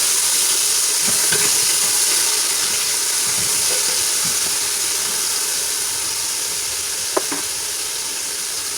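Browned ground beef frying with chopped onion, bell pepper and garlic in a pan, giving a steady, loud sizzling hiss throughout with a couple of faint utensil clicks, no talking.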